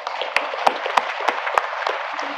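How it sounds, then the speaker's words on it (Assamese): An audience at a public gathering in Tangla gives a short round of applause, a thin patter of clapping with a few sharper, louder claps standing out at uneven intervals. "ৰাজহুৱাভাৱে আমি এটা ডাঙৰকৈ হাত চাপৰি মাৰিব"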